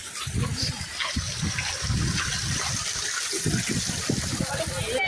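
Wind-driven sea waves near Alibag on a rainy day, washing and surging continuously with low rumbling gusts of wind buffeting close by, steady and moderately loud throughout.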